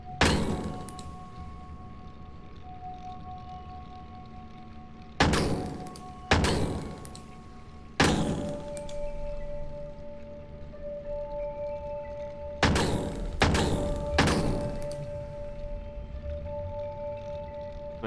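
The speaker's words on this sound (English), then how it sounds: "So I just need to keep hitting the pufferfish?" A pufferfish is hit repeatedly in the video game Crow Country, landing as sharp, heavy thuds in pairs and clusters separated by quiet stretches, over a faint sustained tone.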